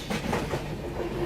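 Rajdhani Express running and overtaking the Gondwana Express, a brief steady rumble of rolling rail cars with soft wheel clatter, moderately faint and alone.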